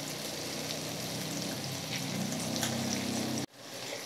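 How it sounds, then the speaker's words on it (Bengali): Banana stem fritters sizzle steadily in hot oil with a dense, continuous crackle. The sound cuts off abruptly near the end and then returns faintly. "একে একে আমি অনেকগুলো বড়া ছেড়ে দিয়েছি।"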